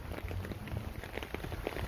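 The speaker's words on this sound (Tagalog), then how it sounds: "may kasamang ulan kasi" Steady patter of rain mixed with snow falling on a surface in Berlin, a dense hiss with scattered soft drops, continuous and fairly close, no voices.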